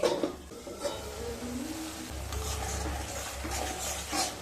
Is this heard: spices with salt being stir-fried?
yes